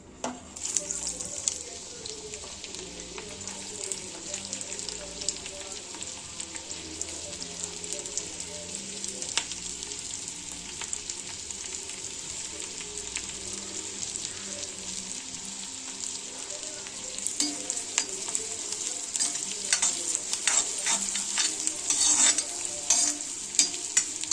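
Sliced onions frying in a pan, a continuous crackling sizzle with frequent spoon stirs that grows busier toward the end, close and steady.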